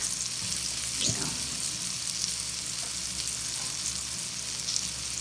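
Garden-fresh green tomatoes fry in hot oil in a pan, giving a steady close sizzle throughout with a few soft stirring scrapes and no talk.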